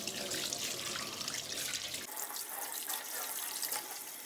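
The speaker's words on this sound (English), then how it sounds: "Water goes on again." A tap runs steadily for hand washing, with a bright, continuous splashing rush into a sink that is close and even, briefly louder and rougher before settling to a thinner stream.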